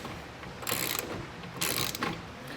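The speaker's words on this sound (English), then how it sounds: "once we're tightening them down, you can just repeat that process for all of the remaining nuts" A hand ratchet tightening nuts on a truck bed rack, two close, loud bursts of rapid clicking separated by a short pause.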